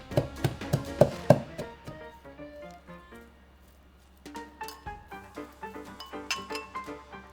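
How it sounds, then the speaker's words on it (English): Shallots, garlic, ginger, lemongrass, turmeric, chili and cilantro roots are crushed for Vietnamese chicken curry, producing a quick burst of sharp clinks and pounding knocks, a lull, then another run of irregular close thuds and taps. "Next, I'll finely crush the aromatic ingredients: shallots, garlic, ginger, lemongrass, turmeric, chili, and cilantro roots."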